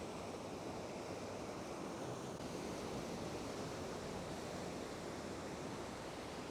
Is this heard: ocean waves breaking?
yes